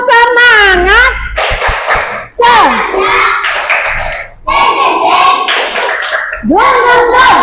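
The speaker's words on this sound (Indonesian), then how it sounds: "Ayo, tepuk semangat" Children in a classroom ice-breaker doing the tepuk semangat clapping chant, loud sung and shouted syllables alternating with bursts of rhythmic group clapping, close and energetic.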